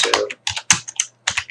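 Quick bursts of keystrokes on a computer keyboard as search terms are entered, clustered clicks separated by brief pauses, close and clear with no talking.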